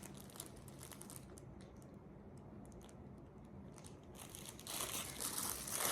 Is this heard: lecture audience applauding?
no